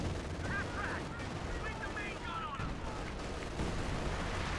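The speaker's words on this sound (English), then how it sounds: "Assault officer using its artillery ability to hopefully hit these positions." Artillery barrage in Company of Heroes 2, a 4v4 match on the Lienne Forest map, with dense game battle noise of explosions and gunfire rumbling steadily throughout, busy and continuous.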